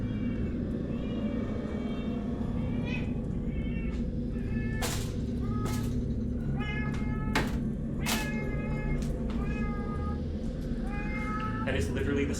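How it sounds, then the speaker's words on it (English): A house cat named Mitzi meows angrily while being picked up, repeated harsh, strained cries spread over several seconds amid bursts of handling noise and a constant low rumble, with a voice in the background. "That is literally the sound of me just picking the cat up"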